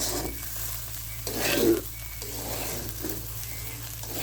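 Onion, garlic, rice and fish frying in a pan, giving a steady close sizzle with occasional stirring scrapes and a brief louder surge of crackle midway.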